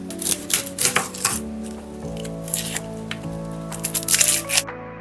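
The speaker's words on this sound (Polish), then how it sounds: "Teraz zajmiemy się cebulą, więc obieram i będę je kroiła na takie fajne, większe piórka." A knife slicing a peeled onion into strips on a cutting board for Polish onion-topped yeast buns, giving bursts of quick crisp cuts at the start and end with a quieter stretch between.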